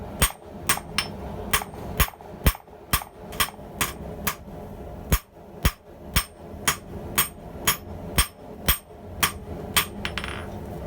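Hammer strikes land on hot H13 tool steel being drawn out, a steady series of about twenty-five sharp metallic blows at close range, rhythmic with brief pauses, no talk.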